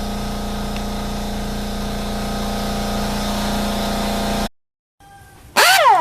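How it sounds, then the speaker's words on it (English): Workshop air compressor runs steadily with a loud mechanical hum and pulsing motor drone for several seconds, then cuts off abruptly. A short hiss and a brief bright squeal follow after it stops. "I'm going to wait until the compressor turns off."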